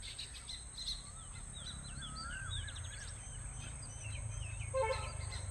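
Sparrows returning home in the evening make soft, scattered chirps and twittering calls that carry faintly over a steady outdoor hiss, with a brief cluster of sharper chirps near the end.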